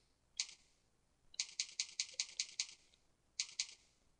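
A computer keyboard clicks under quick fingers as a website address is typed in, with a single keystroke, then a rapid run of about a dozen crisp close taps, and a short final burst, in a quiet room.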